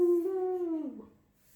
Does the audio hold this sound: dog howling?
yes